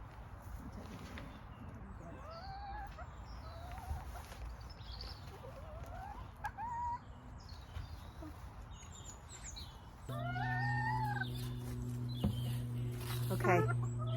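Pet hens on an allotment clucking and chirping softly in short scattered calls over quiet outdoor background, with a louder steady hum near the end.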